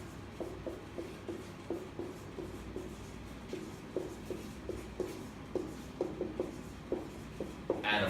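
Marker or chalk strokes on a board while writing a question, a series of short scratchy taps and rubs in a quiet room with a low steady hum beneath.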